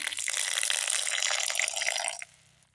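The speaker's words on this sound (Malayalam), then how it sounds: "അല്പം വെള്ളം ഒഴിച്ചു കൊടുക്കാം" Water pours steadily for about two seconds into a mixer jar of soaked rice, a close, bright rush that stops abruptly and leaves near silence.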